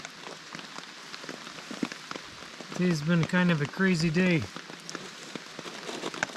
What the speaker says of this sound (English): And it's still raining now.